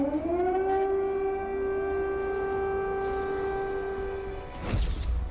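A civil defense siren wails at the Kremlin, one long steady rising tone held for several seconds before winding down, heard from a distance.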